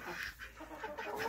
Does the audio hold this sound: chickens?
yes